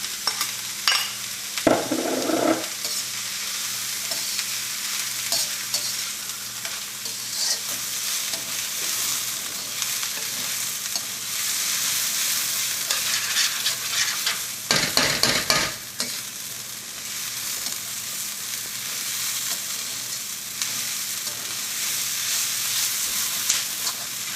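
Onion fries in oil with ginger, garlic, curry leaves and green chillies for egg kurma, giving a continuous close sizzle with bursts of stirring and scraping in the pan, steady and loud throughout with no speech.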